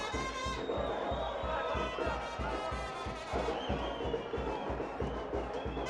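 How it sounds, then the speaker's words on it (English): Large crowd at a Scotland FC versus Zambezi C & G FC football match, a continuous roar of cheering and voices with rhythmic thumping underneath, steady throughout. "Beginning to command a large crowd."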